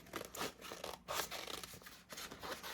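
Scissors snip through paper to cut out a Christmas rose print, a few close, quiet, rustling cuts in short bursts with no talk.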